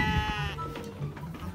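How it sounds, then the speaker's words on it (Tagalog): Goats bleat on a farm, several quick cries close by, with low farmyard background sounds and no clear talking. "Papalabasin na natin yung kambing."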